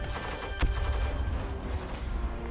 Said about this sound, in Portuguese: suportando tiros implacáveis